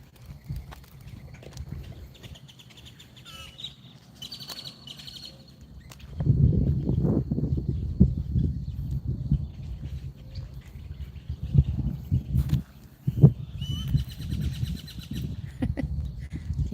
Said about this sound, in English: Can you guys hear all the birds?